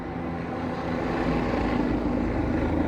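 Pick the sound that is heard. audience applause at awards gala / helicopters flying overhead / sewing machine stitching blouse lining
helicopters flying overhead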